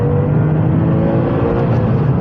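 A Porsche 996 911 Targa's flat-six engine drones loud and close with a steady, throaty growl that holds an even pitch throughout.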